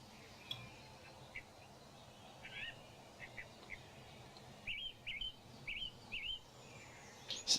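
A person imitates bird calls, giving short chirping tweets in scattered bursts, some paired, over a low background hum during a tabletop role-playing game session.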